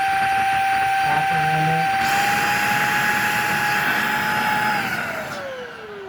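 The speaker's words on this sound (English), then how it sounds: "we're going to test the power of the vacuum with the dirty filter" A Shark vacuum cleaner with a dirty filter runs loudly with a steady, high whine that shifts pitch slightly while sucking up paper, then begins to wind down near the end.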